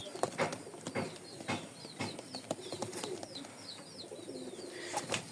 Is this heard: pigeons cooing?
yes